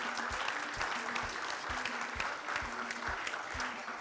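A TV show studio audience applauds steadily throughout, with a dense wash of clapping and a regular rhythmic beat running underneath it.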